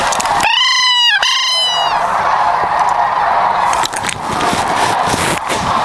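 Sandhill cranes give a couple of loud, rolling bugled calls up close during a youth hunt in the field, then steady wind and rustling noise carry on with occasional knocks.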